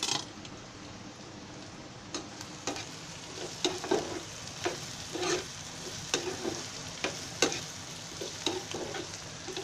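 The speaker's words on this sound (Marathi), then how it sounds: "पहिलीच कारली भाजून काढायची तेलामध्ये थोडंसं तेल टाकून" Thick slices of bitter gourd fry in a little oil in a home kitchen pan, giving a soft continuous sizzle broken by sharp spatters and stirring clicks.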